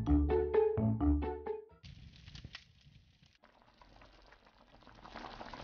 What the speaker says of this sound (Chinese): 五花肉焯水去血沫